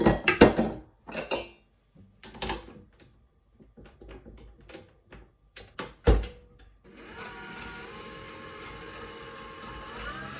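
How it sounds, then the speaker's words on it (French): A stand mixer whisks eggs and sugar toward a foam. Clattering bowl and utensil knocks come first, then the machine starts and runs as a steady, fairly loud whirring drone to the end. "Donc là, on fouette énergiquement pour que ça soit mousseux."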